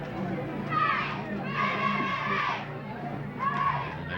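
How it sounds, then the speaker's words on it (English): Russian and US cheerleaders at a 1996 Friendship Bowl football game chant a cheer together, distant crowd voices rising in bursts from the field below. "the Russian and the United States cheerleaders are ready to do a cheer in unison here down below us"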